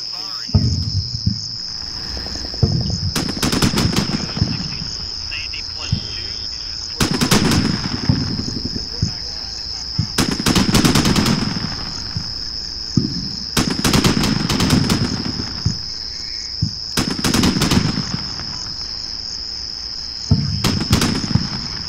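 HEAT rounds fired in the wargame Combat Mission: Shock Force, a series of about six broad, booming firing bursts spaced a few seconds apart, with a steady high insect-like whine running underneath throughout.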